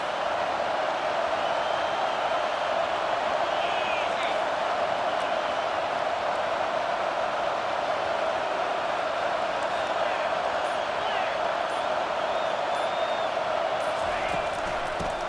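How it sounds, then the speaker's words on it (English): A roaring stadium crowd at an Ole Miss vs South Carolina college football game on third down, loud and sustained throughout, a dense wall of cheering voices that never lets up. "this crowd is tearing the lid off this place"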